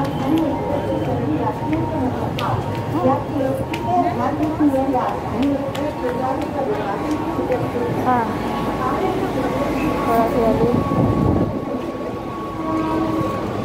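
A Borivali local train rumbles and screeches into a platform, with steady mechanical noise and crowd chatter throughout.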